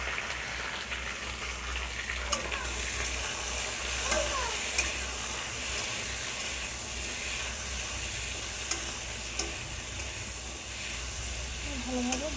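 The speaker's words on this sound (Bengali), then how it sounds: "ভালোভাবে ভেজে নেব।" Capsicum, onion, ginger, garlic and tomato fry in a hot wok with a steady loud sizzle and hiss, broken by occasional clinks of a spatula stirring.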